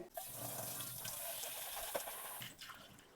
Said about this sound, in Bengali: এবার একটু ধুয়ে দেখাই